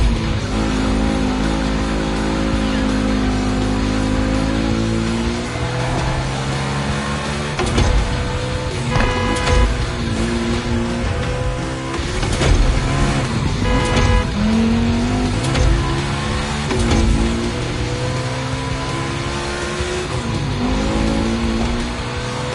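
Volkswagen race cars roaring around a track in The Crew Motorfest, loud sustained engine drone with rising and falling revs, gear shifts and brief tire squeals as cars jostle, continuous throughout.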